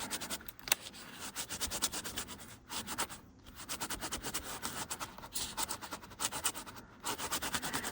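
Gelatos paint being wiped off a gesso stencil print makes soft, rhythmic rubbing strokes, close and fairly quiet, repeating steadily with brief pauses.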